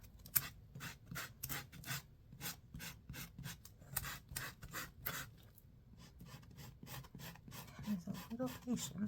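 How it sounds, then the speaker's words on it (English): A small sanding block with thin sandpaper rubbed gently across a book, making a soft, repeated scratchy rasp in short strokes, close by and fairly quiet, with no talking. "So if you take a thin piece of sandpaper, this is a little sand block, you can very gently"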